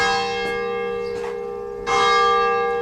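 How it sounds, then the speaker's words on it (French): Church bells ringing from a closed church beside a cemetery in Paris, loud and close, with sustained ringing tones and a few struck peals over about three seconds, no voices. "Il y a quand même quelqu'un dedans qui sonne les cloches."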